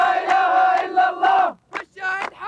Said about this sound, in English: News of the successful attack on Israel was cheered by even the youngest in the crowd